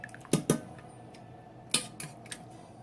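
Metal tongs click and scrape in a pan as they pick chilies from shrimp cooking. A pair of sharp clacks comes first, then a few lighter taps, close and quiet with no talk.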